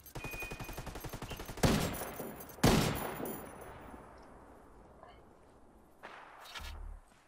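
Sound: gunfire in a video game

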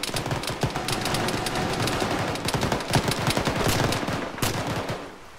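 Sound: gunfire in the video game Arma (ShackTac)

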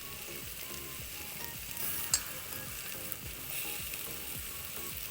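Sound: sautéing vegetables with salt in a pan for pulao

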